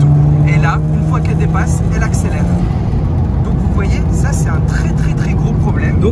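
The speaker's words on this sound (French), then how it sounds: "Lorsque je vais accélérer, hop, là je suis pied au plancher." Mazda RX-7 FD3S rotary engine held at full throttle while accelerating, a loud steady buzzing drone with a sustained tone from start to end and a rider speaking over it.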